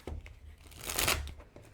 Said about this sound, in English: I'm actually going to give it another shuffle here.